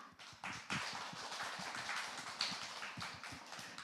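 A modest indoor audience at a school forum claps for the presenters, producing steady, dense applause of many hands at moderate distance with no talking over it.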